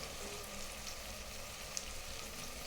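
Tomatoes with salt and mint leaves sizzle in a pan, a faint, steady frying hiss with tiny crackles and no voices.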